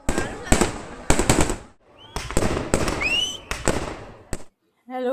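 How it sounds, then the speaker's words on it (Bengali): Fireworks burst at night at a late-night fireworks fair, a run of loud, sharp cracks and crackling volleys close by, a few whistling rockets rising between them, with a person talking briefly in the gaps. "বাজি ফুটবে"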